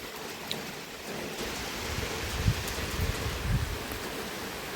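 Rain falls at a railway station in Valmiki Nagar while a train waits, a steady diffuse hiss with a few soft low thumps, fairly loud and without voices.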